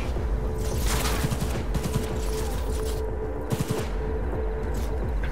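Video game gunfire from Cyberpunk 2077 rattles in rapid, continuous automatic bursts with sharp cracks, dense and loud throughout, with no voices.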